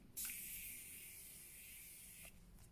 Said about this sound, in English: give my face a quick spray with the Tarte Maracuja Miracle Mist